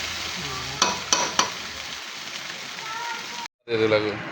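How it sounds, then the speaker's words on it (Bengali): Rice with sugar sizzles and frying crackles in a pot for pulao as it is stirred, with a few sharp scraping knocks early on and a brief cut near the end. "দিয়ে যে নাড়াচাড়া করতে হবে, একটু এই নাড়াচাড়া করে ভাজা হবে"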